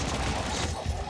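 Gunfire in Call of Duty Mobile, a brief, loud, close burst of rapid, dense shots blurring into a continuous crackling roar.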